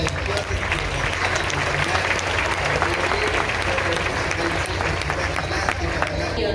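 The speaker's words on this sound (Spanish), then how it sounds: "Así que recibámoslos con fuertes aplausos" Steady, dense applause from a crowd at a parish priestly ordination celebration, continuous clapping filling the whole stretch at close range.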